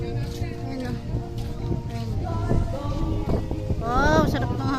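Wind gusts buffet the microphone with a rough, rushing roar while several voices chatter and exclaim nearby.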